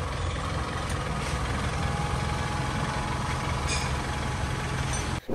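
A worn diesel engine idles with piston ring, piston and liner wear, in need of a general overhaul; a steady, loud, rough low rumble continues throughout with no voices.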